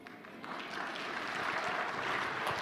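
Faint, steady applause from a church congregation, rising slightly and holding as a continuous patter of clapping hands.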